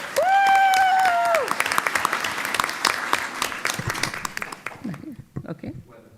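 Audience applause at a school board meeting, a dense patter of many hands clapping that fades after about four seconds, with a voice talking over it at the start and brief speech near the end.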